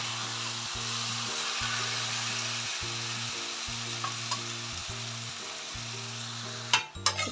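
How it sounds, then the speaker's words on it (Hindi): Chicken pieces for chicken latpata sizzle and hiss steadily in a pan under a constant low hum, with a couple of small knocks and a louder clatter as they are stirred near the end. "इसको मैंने अच्छे से मिक्स कर दिया है"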